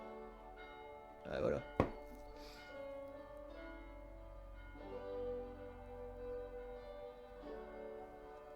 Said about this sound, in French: Peut-être sonner la cloche, peut-être?